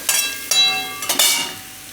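Shredded cabbage frying in a pan for a Gujarati sambharo as flour is sprinkled in, producing three or four short bursts of hissing sizzle and stirring that each fade away, close and fairly loud, with no talking.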